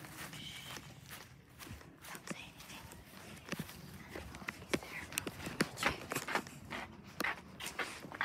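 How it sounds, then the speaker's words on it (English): Footsteps during a game of hide and seek land as a loose run of sharp, irregular taps, moderately close, over a low background rumble and occasional voices. "Because your footsteps are louder."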